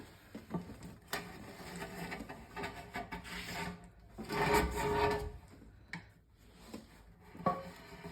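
Rubber tire being worked off a bandsaw wheel by hand, giving continuous rubbing and rasping friction with stretching squeaks and louder surges, especially mid-clip, close and without talk.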